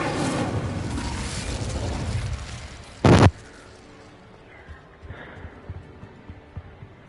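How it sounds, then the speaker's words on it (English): A fiery Incendio spell cast in Hogwarts Legacy bursts out as a short, loud blast cutting through busy game noise, followed by quieter crackles and small pops as the scene settles. "Incendio!"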